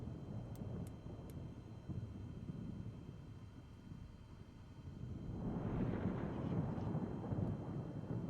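Thunder in Microsoft Flight Simulator rolls as a low, rumbling roar over a steady background drone, swelling louder partway through and staying heavy to the end.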